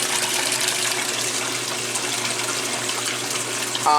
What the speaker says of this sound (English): it's draining all the water out of here.